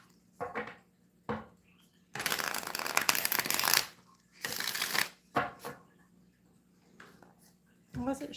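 Playing cards are shuffled in several crisp, fluttering riffles, each lasting a second or two, broken up by softer handling sounds and a person talking quietly.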